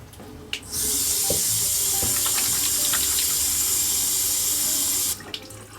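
Cold tap water runs steadily into a bathroom sink during face washing, a loud, close, even gush lasting several seconds, with faint splashes and a brief click at the start and end, no talk.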